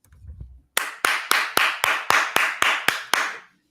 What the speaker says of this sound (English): the people that watch this show will know why I'm clapping